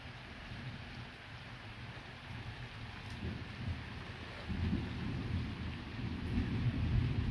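A strong nighttime electrical thunderstorm in August brings steady rain and a low rumble of thunder that swells louder toward the end, fairly quiet and distant overall.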